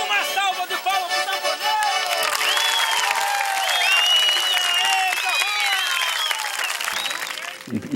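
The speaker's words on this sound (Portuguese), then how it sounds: "Uma salva de palmas pro" A theatre audience applauds a tambourine player, dense clapping mixed with some cheering and whoops, loud and sustained throughout while tonal music or vocal sounds ride over it.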